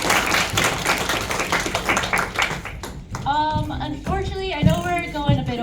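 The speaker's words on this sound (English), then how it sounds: "Let's give them another round of applause" An audience at a Pokémon trainer championship event applauds the casters and players, with a brisk round of clapping for about three seconds before a person starts talking over the tail end.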